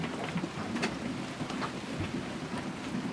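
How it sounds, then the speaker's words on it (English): Steady rain hisses on a sailboat at sea between the Cayman Islands and Panama in a dense, even wash, with occasional louder drops and spatters standing out against the constant downpour. "It's just raining,"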